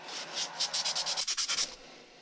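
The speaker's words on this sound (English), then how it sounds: "We're going to sand it down a little bit too." Sandpaper works over the front A-arm pin of an Arrma Outcast RC truck in about a dozen quick, even back-and-forth strokes, close and fairly quiet.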